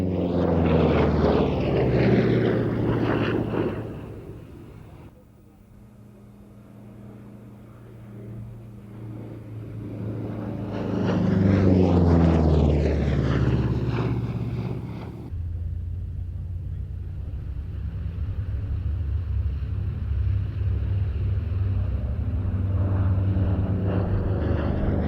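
A heavyweight WWII long-range escort and ground-attack fighter roars past at an air show, its loud propeller engine swelling and fading twice as it passes by, with Doppler sweeps and a steady rumble in between.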